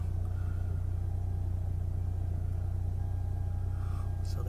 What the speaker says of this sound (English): So the engine is pretty much warmed up.